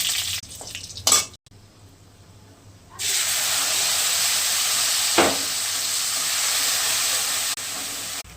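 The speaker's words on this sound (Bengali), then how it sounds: "জিরে দিলাম আর একটু তেল দিলাম, গোটা গরম মশলা, শুকনো লঙ্কা দিলাম, ফোড়ন" Cumin, whole garam masala and dried chillies hit hot oil in a pan, bursting into a loud, steady sizzle after a few quiet clinks and utensil taps, holding a bright hiss with one brief stir partway through.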